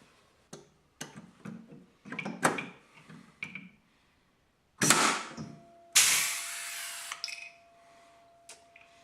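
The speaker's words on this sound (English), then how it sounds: "Riveting from underneath," Sled parts are riveted from underneath, giving a series of sharp tool clicks and snaps in short irregular bursts, followed by a couple of louder pneumatic rivet-gun pops with brief hissing tails in a quiet workshop.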